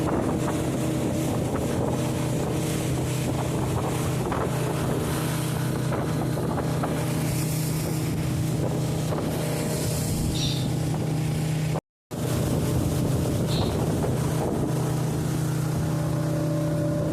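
Motorboat ride on the dam reservoir in Munnar, Kerala, with a steady close engine drone and wind buffeting the microphone throughout, broken by a brief cut near the end.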